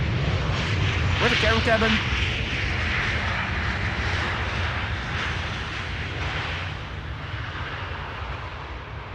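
KLM flight 1930, an airliner at Amsterdam Schiphol Airport, gives a broad, loud jet roar that swells and then slowly fades, with someone talking briefly over it early on.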